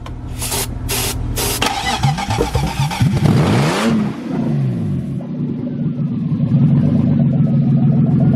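A car's engine, the Cheeto, fires up on its first start: a brief crank catches into a loud, ragged roar, then rising and falling revs boom close by, staying raw and heavy throughout.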